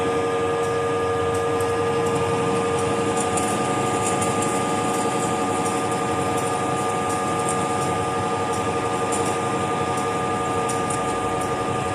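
A lathe cuts a thread on a hydraulic cylinder rod, giving a steady, continuous mechanical hum with a high whine and faint scraping throughout.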